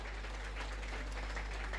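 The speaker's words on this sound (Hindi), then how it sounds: "एक बार इन सभी कैडेट्स के लिए जोरदार तालियां, इनका अभिनंदन कर दें" Applause for recruit police cadets at their passing-out ceremony in Lucknow, Uttar Pradesh, comes as a brief, even patter of many hands over a strong low electrical hum from the sound system.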